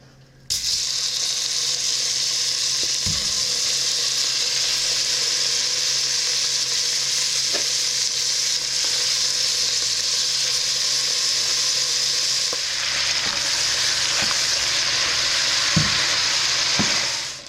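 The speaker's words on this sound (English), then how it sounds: "we will add our meat, and this is on high heat because we are trying to like brown the" Beef stew meat browning in melted fat over high heat for beef tips and gravy, a steady broad sizzle from start to finish, with a few soft clinks and scrapes of stirring.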